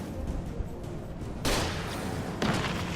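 Two loud, abrupt flare gun shots go off about a second apart in Alan Wake Remastered on PS4, each a broad burst with lingering tail over a steady ambient rumble.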